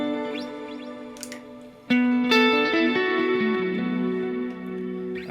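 A sustained guitar pad played through a Line 6 Helix swells with lush reverb, chords shifting and ringing out in long washes that fade slowly, with no one speaking.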